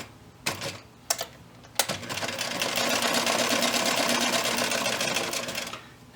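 A sewing machine stitching a felt reindeer ornament: a few short clicks and taps, then a steady fast mechanical whir of running stitches close up for several seconds before it stops.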